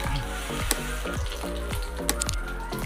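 A tempering of mustard seeds, curry leaves and dried chillies sizzles as it is poured into banana-flower gravy, a brief crackling hiss with a few sharp pops, close and alone.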